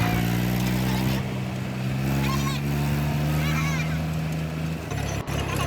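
A tractor arrives and parks at a temple. Its engine hums loud and steady with a deep drone and voices nearby, then cuts out near the end.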